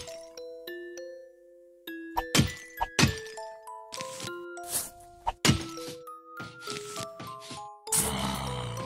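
Chain reaction explosions in the Plants vs Zombies video game: a rapid run of bright chiming dings, thunks and cracking bursts that follow one another, loud and layered over tonal game music.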